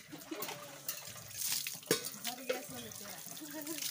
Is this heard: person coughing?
no